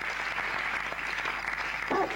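At a French-language church service from 1995, a congregation applauds, making a steady, moderately loud patter of clapping that carries on briefly with a faint voice rising near the end.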